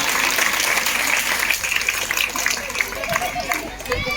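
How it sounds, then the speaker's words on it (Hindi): Women at a rural Teej festival gathering clap together, a loud crowd applause that fades as talk and crowd murmur take over near the end. "तो अपने लिए तालियां बजा दीजिए एक बार"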